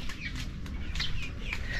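Several backyard chickens cluck softly nearby while being fed rice hulls, with short scattered calls over a low background hum.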